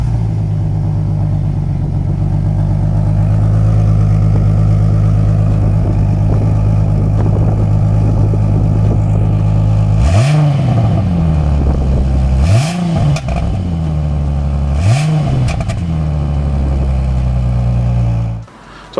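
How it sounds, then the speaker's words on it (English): A Ford Mustang's 4-liter V6 idles with a steady low grumble, then is revved three times in quick succession, each rev rising sharply and falling back to idle, loud and close. "It is a 4-liter V6, so it does have a bit of a thicker grumble"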